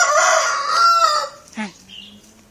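Chickens calling nearby, a drawn-out, crow-like squawk followed by a short, sharp cluck and quieter clucking after.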